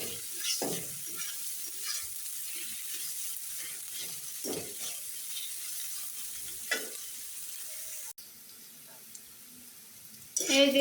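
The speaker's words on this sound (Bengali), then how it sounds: "এখন পেঁয়াজটা লাল লাল করে ভেজে নেব।" Onions fry in a pan with a steady sizzle that runs throughout, broken by a few louder stirring scrapes and a short clatter near the end. The frying stays moderately close and carries on without any talk.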